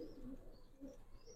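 Silver Giribaz pigeon giving low, soft cooing in two or three rolling phrases, faint and close against a quiet background.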